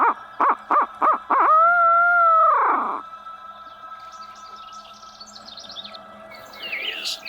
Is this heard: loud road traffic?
no